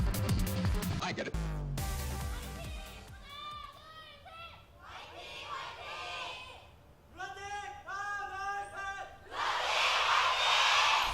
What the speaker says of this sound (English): a guy leading the cheer for Lunatic-Hai